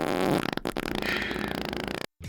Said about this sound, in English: who keeps putting all these fart sounds in my videos?